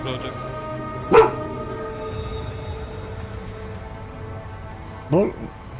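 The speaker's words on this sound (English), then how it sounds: "Why's my dog barking my ear off now?" A pet dog indoors gives two sharp, loud barks a few seconds apart, separated by a quiet stretch of low room hum.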